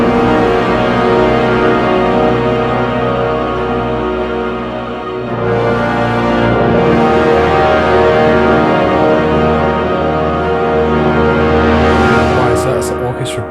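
Orchestral bus from the mix of a song, with Logic's mid-only processing switched off and then on, playing sustained layered chords, loud and continuous, with the tonal balance shifting partway through.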